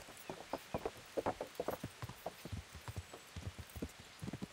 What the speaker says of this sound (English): I'm amazed how fast this horse can run, though, considering it's weighed down with a couple of hundred kilos of armour.